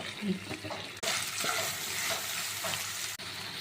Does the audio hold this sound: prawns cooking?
yes